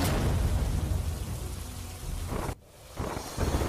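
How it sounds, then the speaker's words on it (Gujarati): Heavy monsoon downpour in Chotila, Surendranagar, roars as a dense, loud wash of rain with low rumbling. It drops out briefly near the end and then returns, with no voices. "સુરેન્દ્રનગરના ચોટીલામાં ધોધમાર વરસાદ"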